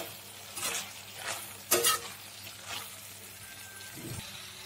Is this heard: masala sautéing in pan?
yes